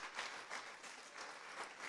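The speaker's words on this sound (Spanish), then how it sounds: "Démosle un aplauso al Señor" A church congregation applauds in a faint, distant patter of many hands, even and continuous throughout the short stretch.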